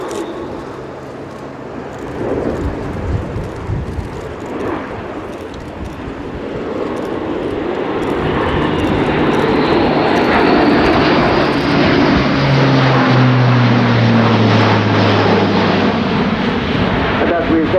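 An Airbus A400M Atlas military transport aircraft flies at the RIAT airshow, its turboprop engine roar swelling from moderate to loud and steady, with a low droning tone sliding downward near the end as it passes, and faint talk underneath.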